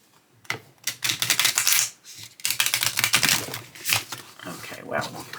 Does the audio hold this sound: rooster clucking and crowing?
no